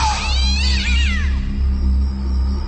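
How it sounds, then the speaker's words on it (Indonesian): An angry cat, a horror-story sound effect, lets out a sharp, wavering yowl as it leaps from a kitchen cupboard, loud and close over a low, steady rumbling drone. "meloncat seekor kucing dan menggeram marah keluar dari sela-sela lemari dapur"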